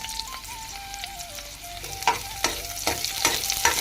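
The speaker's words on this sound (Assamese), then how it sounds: "এয়া তেল গৰম হৈ গ'ল, ইয়াতে মই পিঁয়াজ আৰু জলকীয়াখিনি দি দিলোঁ। এইখিনি অলপ ভাজি ল'ম।" Hot oil sizzles as onions and green chillies fry, with a few sharp bursts of crackling and scraping from stirring, close by.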